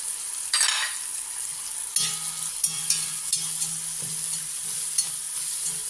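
Sambar powder and turmeric being sautéed in a pan, with a steady soft sizzle and intermittent scraping stir strokes, close and moderately loud, no talking.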